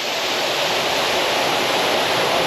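A hidden waterfall in Valderrama, Antique roars as a steady, dense broadband rush, close and constant throughout with no voices.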